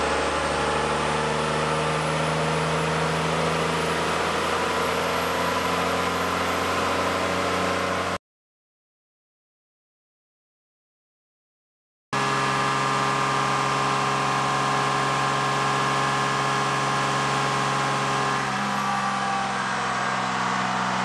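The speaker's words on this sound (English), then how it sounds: "we just got this strapped to the rollers and we're gonna see what kind of power it's gonna put down" A 24V Cummins diesel truck strapped to dyno rollers roars in a long, loud sustained pull with a whining high tone, briefly drops to silence, then resumes at full load before the pitch falls away as it winds down.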